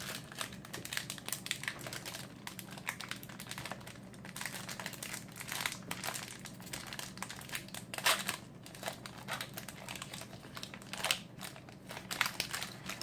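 Vintage Fallen Empires Magic: The Gathering booster pack wrappers crinkle and crumple continuously at close range, with soft rustling of cards being handled and no talking.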